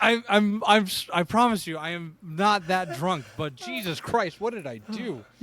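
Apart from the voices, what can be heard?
None of the usual background noises is heard.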